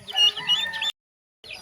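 Turkeys kept on a farm, a close, busy run of gobbling and clucking calls that breaks off into a short silence before more calls resume.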